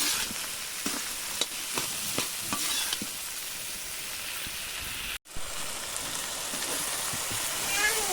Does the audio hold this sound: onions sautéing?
yes